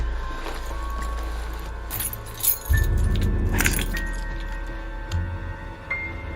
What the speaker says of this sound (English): Why don't you give me your car keys?